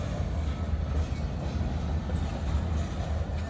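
A CSX freight train with tanker cars rolls past on the track, a steady low rumble with faint clickety-clack of wheels holding at an even level throughout, fairly near and with no voices.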